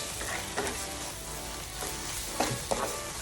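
Bacon jam with added brown sugar cooking in a pan for a patty melt, a continuous close sizzle broken by a few quick stirring scrapes.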